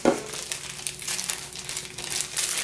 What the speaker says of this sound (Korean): 이렇게 비닐 장갑 있어야 되고요